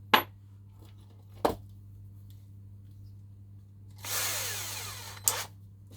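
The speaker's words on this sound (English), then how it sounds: "So I want me 3mm drill bit." A power drill fitted with a 3mm bit bores into wood for a diorama build, giving one short, close whir of about a second, framed by a few sharp clicks and knocks in an otherwise quiet room.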